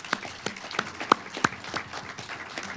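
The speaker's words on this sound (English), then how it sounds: "Let's give them a round of applause." Scattered applause from an audience at a governing board candidate forum, uneven and thinning, with a few louder individual claps standing out against softer clapping.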